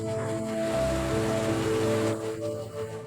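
Steady rain falls in a dramatic film scene, a dense continuous wash of drops on surfaces beneath sustained tonal music, holding loud throughout.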